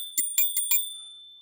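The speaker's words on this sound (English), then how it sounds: "It does have a bell right here" Four quick metallic rings from the handlebar bell on a DYU C2 electric folding e-bike, bright and close, followed by a short fading ring-out.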